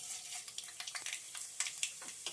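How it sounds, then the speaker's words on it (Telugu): Tempering spices crackling in hot oil for Andhra-style mango rice, a soft close sizzle with quick spitting pops and light stirring scrapes, fairly quiet and with no talk. "ఆయిల్ హీట్ అయిన తర్వాత ఇందులోకి పోపు దినుసుల్ని యాడ్ చేసుకోవాలి."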